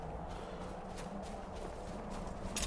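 Horse hooves clopping steadily up a steep cliff in Skyrim, a continuous run of hoof falls under ambient game sound with a brighter scrape near the end.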